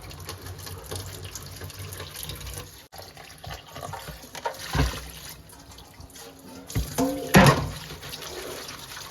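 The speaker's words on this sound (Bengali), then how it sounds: "এবার চিংড়ি মাছটা ধোবো।" Tap water running into a sink while prawns are washed at home, a soft continuous stream with a few sharper splashes and clatters, fairly close and moderately quiet.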